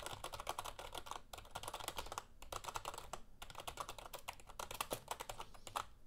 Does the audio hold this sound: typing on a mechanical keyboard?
yes